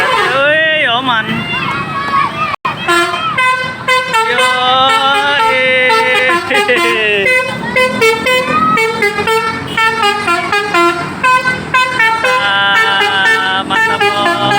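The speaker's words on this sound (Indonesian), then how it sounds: "Raka bergerak, telolet, Raka bergerak. Bis artis telolet." A loud telolet horn on an artist's Draka tour bus plays a continuous warbling multi-tone melody of rising and falling notes, close by and sustained throughout with barely a pause.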